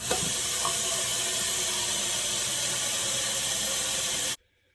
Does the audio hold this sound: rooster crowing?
no